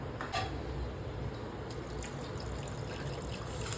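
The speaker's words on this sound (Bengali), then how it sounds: "এই জলটা গরম হয়ে গেলে এর মধ্যে ঢেলে দিচ্ছি।" Hot water pours steadily into a pressure cooker holding tomatoes, a continuous rushing, splashing wash with small drips on top, close by and without talk.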